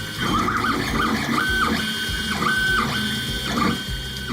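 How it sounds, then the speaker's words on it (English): A 3D printer running, its stepper motors whirring through repeated pitch sweeps with a mechanical ratcheting rhythm, steady and close throughout. "It's a 3D printer."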